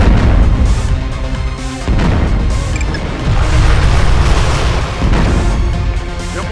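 Bombs explode in the C&C Twisted Insurrection strategy game, a series of loud, heavy booms and crashing blasts following one after another with brief dips between them.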